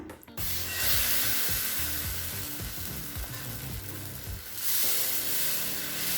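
Rava uttapam batter hits a hot dosa tawa and bursts into a loud, steady sizzle that holds throughout, broken by a few small scraping clicks.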